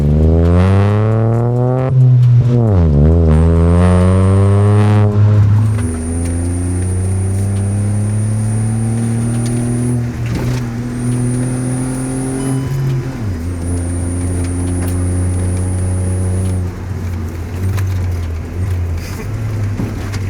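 A Hyundai i20 N Line on stiff coilovers drives a test road from inside the cabin, its engine loudly revving up through the gears with pitch climbing, dropping at shifts and climbing again, while tyre and road noise hum underneath.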